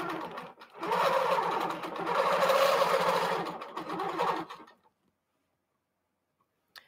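A King Quilter II Elite longarm machine sews binding onto the edge of a quilt at 12 stitches per inch, a loud steady hum running several seconds with brief dips, then stopping into silence.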